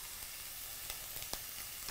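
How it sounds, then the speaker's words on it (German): Hot oil sizzles steadily in a pan with carrots and peppers, a constant close hiss with a few faint clicks of stirring, no voices. "Wenn das Öl brutschelt, ist es heiß."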